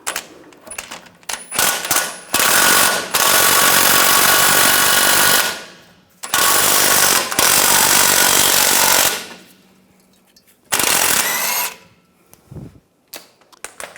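A loud impact wrench hammers on the 24mm nut and bolt of a 2011-2018 Ram 1500 rear lower control arm in three long rattling bursts, with quieter clicks and handling noises between them.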